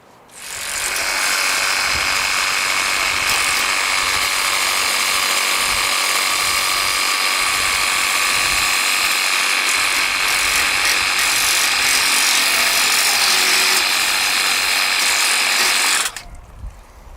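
A steady, loud high-pitched mechanical whine and hiss of a Flow Max 40V cordless pressure washer spraying at its highest pressure, thinnest spray, runs continuously for about sixteen seconds, then cuts off abruptly.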